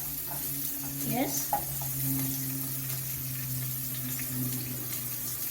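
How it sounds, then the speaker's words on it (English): Onions going into heated cooking oil in a pot for an arrowroot stew, a soft sizzle with a brief burst of spattering near the start that settles into a low, steady hiss over a faint hum. "So my oil is heated. I'll go ahead and add my onions."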